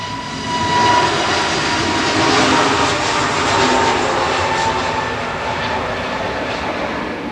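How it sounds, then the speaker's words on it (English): An EasyJet Airbus A320 jet departs Manchester Airport for Agadir, a loud broad engine roar swelling and holding steady at a distance, slowly easing off toward the end. "EasyJet A320 2285 G Guzzle to Agadir."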